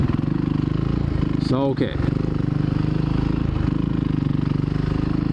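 Supermoto motorcycle engine idling with a steady, throbbing low putter, close and continuous, while a person speaks briefly over it.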